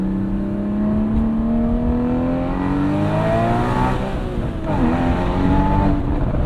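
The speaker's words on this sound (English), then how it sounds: "we've opened up the Porsche Sport exhaust" 2016 Porsche 981 Boxster Spyder with sport exhaust open, heard from inside as the engine pulls and revs up through the gears with rising tones, then a dip on a shift before climbing again, loud and continuous.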